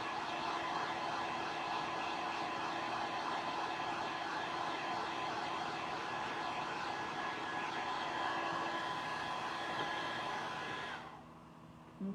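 Hair dryer blowing steadily on a DIY Valentine's craft, a continuous close whooshing hum that holds evenly before switching off near the end.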